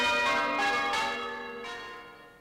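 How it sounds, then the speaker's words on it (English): Church bells ring out in a village, a dense wash of overlapping clangs striking in quick succession and slowly fading, with no voices. "in the village where she grew up, bells to celebrate a long life"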